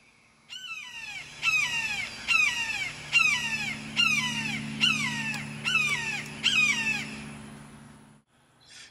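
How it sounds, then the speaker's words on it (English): An immature red-shouldered hawk in a backyard gives seven evenly spaced, descending calls in a steady rhythm. The calls are clear and fairly close over a low background hum. "This is a red-shouldered hawk,"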